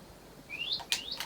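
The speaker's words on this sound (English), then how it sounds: "These parrots aren't helping." Parrots give short rising whistled chirps and a couple of sharp squawks, close and fairly faint over a quiet background.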